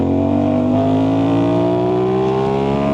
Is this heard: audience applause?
no